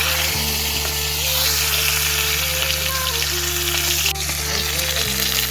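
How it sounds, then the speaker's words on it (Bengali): Pond-raised lailentika fish fry in a pan with a loud, continuous sizzle and spitting crackle over a steady low hum, with no speech. "একটু লাল লাল করে ভেজে নেব"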